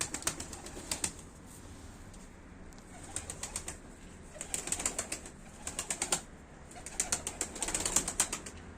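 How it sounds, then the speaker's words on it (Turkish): Pigeons land, with repeated bursts of flapping wings and bird calls over a low outdoor background. The flutters come in clusters across the whole stretch, and no one speaks. "Şöyle arkasını dönmüşken kuşları yere indireyim."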